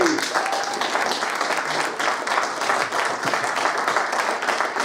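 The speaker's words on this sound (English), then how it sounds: "can we say a big round of applause to the Taskset boys?" An audience at a PLAY Expo Blackpool reunion performance claps and applauds steadily for several seconds, a dense even wash of hands with faint voices mixed in.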